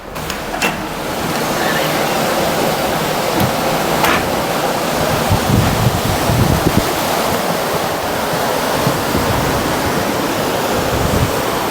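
Continuous rushing ocean waves and wind noise at sea, a dense roar with occasional splashes and buffeting against the microphone.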